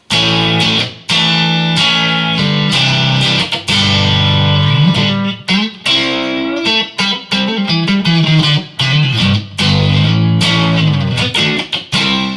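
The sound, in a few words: electric guitar, neck pickup only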